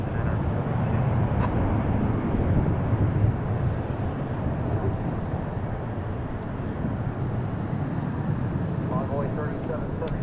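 Aeromexico airliner arriving from Mexico City at DFW Airport, a steady broad roar of jet noise with wind buffeting across the whole stretch, loud and continuous with no clear rise or fall.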